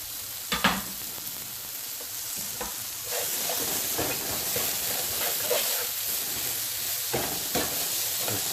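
Garlic, onions and chili fry over medium heat in a pan, a steady sizzle broken by the scrape and clatter of a utensil stirring them, with several sharper knocks against the pan.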